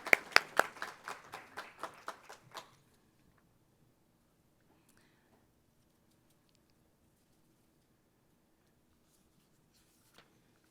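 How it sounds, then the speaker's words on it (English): Brief applause at a women's achievement awards program: a short burst of sharp, close hand claps that dies out after a couple of seconds, leaving near silence with one faint knock later. "Let's give her another round of applause."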